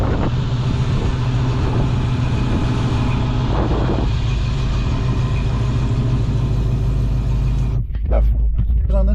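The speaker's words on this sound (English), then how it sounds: "Instead of 2-inch, it's 3-inch exhaust." A 1965 Ford Mustang convertible with a 3-inch exhaust drives along, its engine a loud, steady, deep rumble throughout, dipping briefly near the end, with people talking faintly under it.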